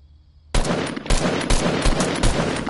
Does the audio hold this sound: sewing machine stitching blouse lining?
no